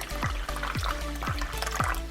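Cold water poured into a pot used for canning jars of home-preserved pork goulash, with repeated splashing gushes in quick succession, close and fairly loud.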